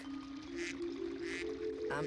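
Baby ducks in the Regular Show cartoon give a few soft, quick quacks over a steady humming tone, quiet and close together in a short burst.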